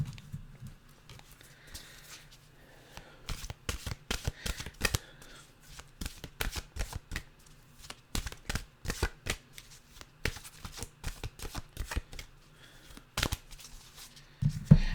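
A deck of mantra cards is shuffled by hand, giving repeated quick riffling and snapping bursts in an irregular rhythm. The sound is close but fairly quiet, with no speech.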